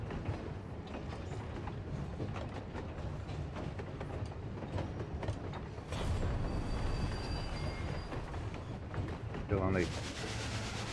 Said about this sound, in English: Your opponent appears to be a train. Here it comes.